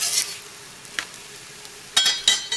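Vegan birria sizzling in a pan, a faint steady hiss broken by a brief crackle near the start and two louder sizzling bursts toward the end as it is flipped.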